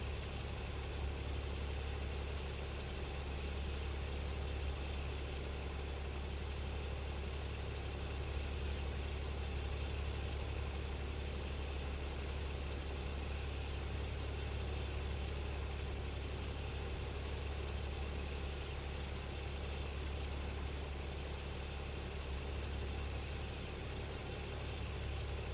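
An articulated tractor engine in a farming video game idles and runs at a steady low rumble, a constant heavy drone with even mid-range hum that holds unchanged throughout with no talking.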